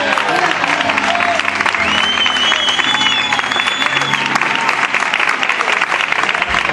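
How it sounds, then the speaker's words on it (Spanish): Church congregation at a Good Friday service on the seven words of the cross claps loudly and continuously, a thick, close crowd applause with a voice faintly audible within it. "Fuertes aplausos para la gloria del Señor."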